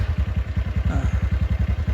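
A motorcycle engine, just started with the electric self-starter, idles with a steady, rapid low thumping beat, close and loud throughout.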